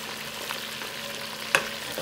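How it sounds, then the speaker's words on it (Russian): Chicken pieces fry in a pan for a potato-and-chicken stew, giving a steady close sizzle with a brief sharper crackle near the end and no talk. "Вот смотрите, вот как она жарится."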